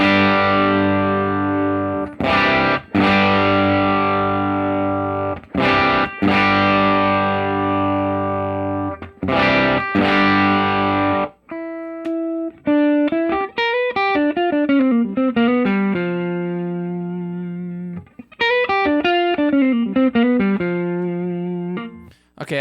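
An electric guitar plays through a Line 6 Helix amp modeler on a clean preset, first sustained strummed chords, then a run of picked single notes and arpeggios with a bright, reverberant tone.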